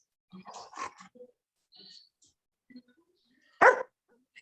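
A female dog barks indoors, giving a few soft yips and whines, then one sharp, loud bark close by, with quiet gaps between.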